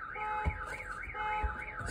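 A fire alarm, heard from inside a car, wails in a steady rising and falling warble that repeats about once a second. A couple of dull thumps sound underneath it, and no one speaks.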